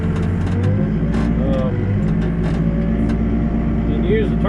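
Backhoe engine running during backfilling, a loud steady diesel drone with slight revving swells, close by, as someone talks over it.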